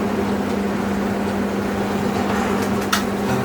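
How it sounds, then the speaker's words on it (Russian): An electric kettle boiling water in a kitchen where dumplings are frying gives a steady, close, rushing rumble with a constant hum, and one faint click is heard near the end. "Чайник у нас сейчас кипит."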